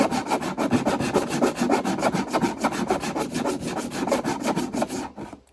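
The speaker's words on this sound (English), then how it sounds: "So I'm cutting some fret slots on a one-piece bird's eye" A handsaw cuts fret slots in a one-piece bird's eye wood neck in rapid, even back-and-forth strokes, close and raspy, continuing steadily before stopping abruptly at the end.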